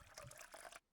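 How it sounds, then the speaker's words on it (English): Water bottle being filled in the survival video game SCUM, a brief soft trickle of pouring liquid, quiet and close, lasting under a second before cutting off. "Fill my water bottle too, yes please"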